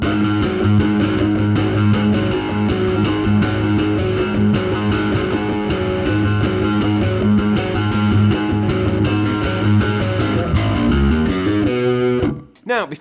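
Fingerstyle electric bass on an Enfield instrument plays a riff at about 86 beats per minute over a full distorted band track, driving and loud, ending with a brief sweep near the close.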